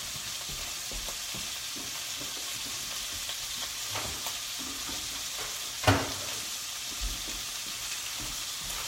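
Pork sizzles steadily in a frying pan, a constant close crackling hiss with a few soft clinks and one sharper clatter of a utensil against the pan partway through.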